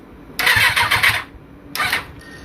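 Kawasaki Z1000 replica motorcycle engine cranked on the electric self-starter: a loud, close whirring crank burst lasting under a second, a pause, then a second shorter starter burst, with no talking.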